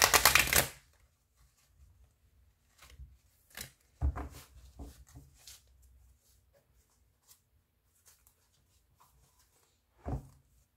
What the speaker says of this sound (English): we're gonna shuffle and pick 3 cards.